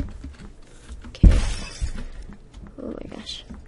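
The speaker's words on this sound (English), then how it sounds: "Hearing a bunch of glass break." Glass shatters loudly in the Phantom Forces shooter game, a sharp crash followed by scattered breaking debris amid game noise, with a bit of faint talk in the background.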